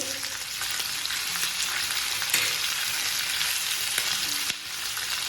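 Red chili pieces fry in a pan for South Indian sambar, giving a steady, bright sizzle throughout with a few sharp ticks and scrapes of stirring.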